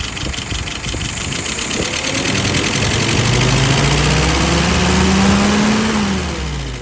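Harley-Davidson engine running loud and steady as the carburetor is tuned, rising through a couple of smooth revs with a climbing pitch and settling back without stumbling.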